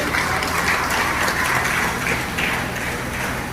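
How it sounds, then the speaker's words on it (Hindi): Sustained applause from an audience at a youth Jat community conference in Agra, a steady dense wash of clapping with no talk over it. "मैं चाहता हूँ कि बहुत जोर की तालियों से धन्यवाद किया जाए"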